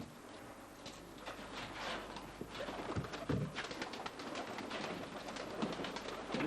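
A tippler pigeon coos softly in a low, quiet sequence of throaty calls, close by against faint background noise with light shuffling.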